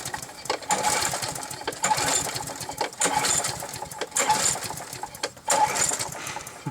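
A small engine with no primer bulb starts and runs with a rough, rapid, close-up buzzing rhythm, loud and uneven throughout.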